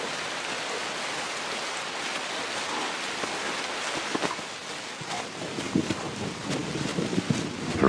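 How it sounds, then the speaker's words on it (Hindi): Steady heavy monsoon-season rain pours down outdoors over flooded grassland, a dense hiss with scattered louder drops and some wind buffeting the microphone toward the end. "लगभग हर दिन तेज बारिश हो रही है।"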